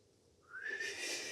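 A person whistles a breathy, rising tone that swells and holds steady, mimicking the sound of wind.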